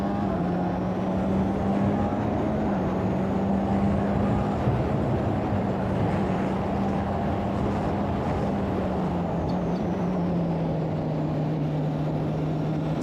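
A GB4 race car runs flat out at Donington Park, its engine a steady, droning whine heard from inside the car, holding pitch with only slight rises and falls, loud and unbroken throughout.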